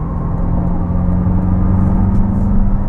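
A lowered, slammed C8 Corvette drives onto the highway, its engine a steady close rumble with a low droning tone and road whir holding even throughout, no voices over it.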